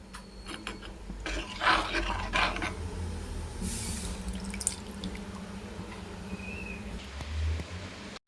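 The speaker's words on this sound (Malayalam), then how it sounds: "ഞാൻ പുളി പിഴിഞ്ഞത് ഒഴിക്കാൻ പോവുകയാണ്" Tamarind extract is poured into a curry pot in a home kitchen, giving a soft continuous splashing and trickling of liquid with a few louder surges, fairly quiet and close.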